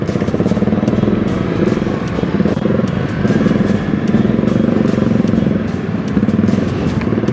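A Kawasaki ZX25RR four-cylinder sport bike engine runs steadily in congested traffic, a loud, close, buzzing rumble with constant revs and slight fluctuations throughout, no speech over it.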